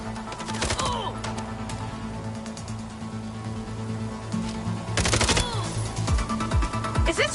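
Gunfire in the video game MindsEye comes as rapid bursts of shots, one early and a louder volley near the end, over steady background game sound.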